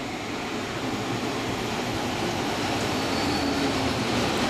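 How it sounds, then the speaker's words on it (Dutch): A regional train running from Saarbrücken to Trier passes steadily nearby, a continuous broadband rail roar with rolling wheel noise that holds a constant level throughout, with no voices. "Een regionale trein van Saarbrücken naar Trier."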